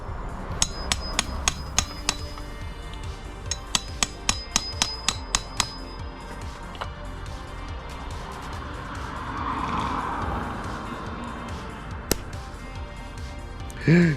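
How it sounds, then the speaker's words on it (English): Sharp metallic hammer strikes ring out in quick bursts while fitting a short shifter in a Subaru WRX, then fewer blows with pauses and some scraping and handling noise between them. "Just hammering it down."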